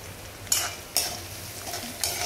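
Asafoetida and garlic dropped into hot oil for poha chivda, a steady sizzle with three sharp bursts as pieces hit the pan, close and moderately loud with no talk.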